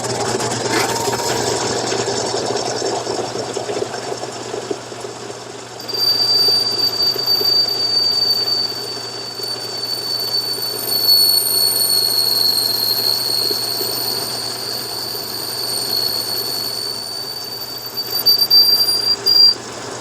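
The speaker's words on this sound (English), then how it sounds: "Taking it out to 3/8 with a chucking reamer." A chucking reamer enlarges a hole to 3/8 inch in a small pulley on an amateur machinist's setup: a steady mechanical whir runs throughout, with a thin, sustained metallic squeal rising partway through and persisting to the end.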